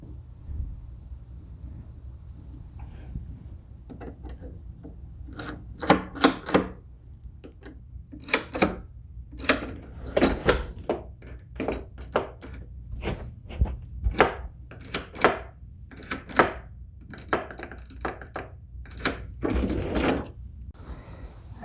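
Screws driven in one after another to secure a Wyze WLCKB1 smart deadbolt in a door, heard as sharp, irregular clicks and ratcheting bursts, close and fairly loud against a quiet room.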